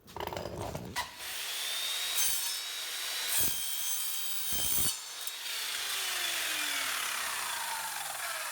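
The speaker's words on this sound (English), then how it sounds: "I'll take that to the saw and get that cut." Power saw cutting a wooden wardrobe shelf rail to measured length, with a steady, fairly quiet whining cut running for several seconds after a few short bursts, in a dressing room being fitted out.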